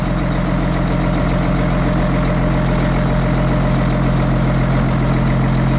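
A dump truck engine runs hard as the tipper body is raised, a loud, steady, close mechanical rumble with no change and no voices.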